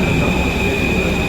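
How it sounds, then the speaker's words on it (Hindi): A crowded Paris metro train runs along its track, producing a loud, close rumbling roar with a steady high-pitched whine over it, constant throughout the short stretch. "मेट्रो इस वक्त खचाखच भरी हुई है"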